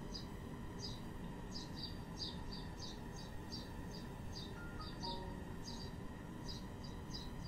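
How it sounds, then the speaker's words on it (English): Birds singing in a music video, with repeated short chirps in a steady pattern throughout, faint against a constant low background hum. "The birds sound like that already."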